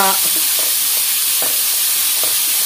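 Onion curry fries in a pan with a loud, constant sizzle as a utensil stirs it, making a few soft scraping strokes.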